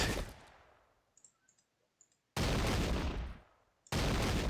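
Musket volley fired in the Sengoku Jidai video game: two loud, dense bursts of massed gunfire, the first fading out and the second cut off as a fresh crackling volley erupts, with faint clicks between.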